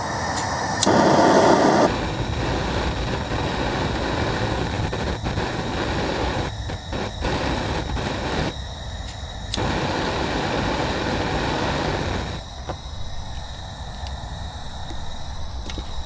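A lit gas torch roars steadily while heating sting bolts, a loud continuous broadband hiss and rumble that shifts in tone now and then as the flame moves, with a brief sharp flare near the start.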